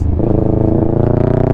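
A Kawasaki Ninja 650 fitted with a full Mivv exhaust system burbles loudly up close, its engine note pulsing and sputtering in rapid uneven crackles.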